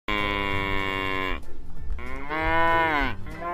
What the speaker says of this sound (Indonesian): Di sini ada kerbau hitam ya.